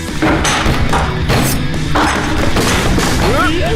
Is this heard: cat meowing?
no